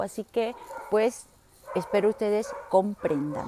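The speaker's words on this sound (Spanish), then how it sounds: "Perdón por los perros, ¿verdad?" Dogs yip and bark indoors in short, close bursts while a person speaks Spanish over them.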